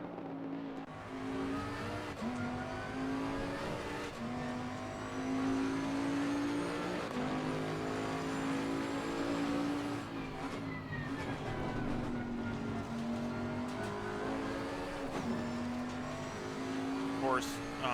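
Bentley GT3 race car in Assetto Corsa Competizione lapping Mount Panorama, its engine droning and climbing through gears with steady revs and brief shift dips, loud and continuous throughout.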